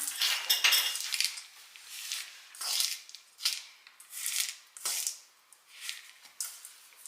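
A fork works through crumb cake topping in a bowl, giving repeated scraping and light clinking strokes in an irregular rhythm, close up and fairly loud, with no talking.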